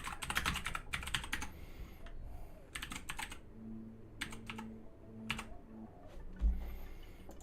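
Rapid bursts of clicking on a computer keyboard, close and fairly quiet, separated by short pauses, with a faint hum underneath and no voices.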